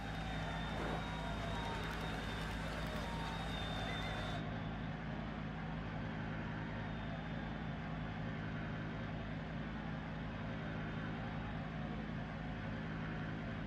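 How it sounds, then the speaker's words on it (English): A rally car's engine in the Dirt Rally 2 video game drones loudly and continuously, a dense roar that stays steady throughout with a faint high whine fading partway through. "Oh, the engine noise."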